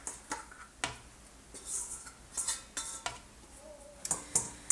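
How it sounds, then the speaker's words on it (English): A bowl scraper works sourdough dough out into a greased bowl, giving a series of close, sharp scrapes, clinks and knocks against the bowl at an uneven pace. "I use this bowl scraper, and I'll just plop it off into this greased bowl here"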